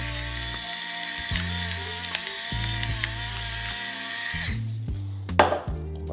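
A small pepper grinder cranking out black pepper: close, dry ratcheting clicks and grinding that repeat in short bursts over a steady tonal background, growing busier toward the end.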